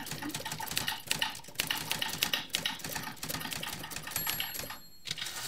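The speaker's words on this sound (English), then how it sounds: "Would he be writing his plays like this on a typewriter?" Rapid mechanical typewriter keystrokes clatter in dense, uneven bursts with a brief pause near the end, fairly close and steady, with no talking over them.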